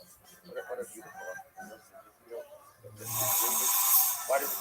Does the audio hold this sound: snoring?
yes